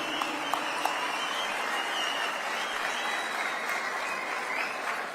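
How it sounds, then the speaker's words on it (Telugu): An audience of anganwadi workers claps for a minister, producing sustained, even applause that carries on at a moderate level for several seconds without speech over it. "గట్టిగా ఒకసారి చప్పట్లు కొట్టి all of you yes appreciate minister now"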